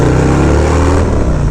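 A loud motorcycle engine drones steadily while riding through Brooklyn streets, a close, heavy, continuous rumble with a slight dip in pitch near the end and no talking.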